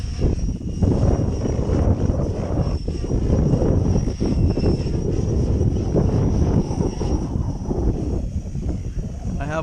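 Align TB70 RC helicopter spinning its rotor up: a loud, dense, continuous whirring drone with a thin high whine over it, close and steady throughout the clip.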